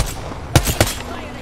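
Two sharp gunshots from a shooter video game ring out close together over a low background hum, loud and brief.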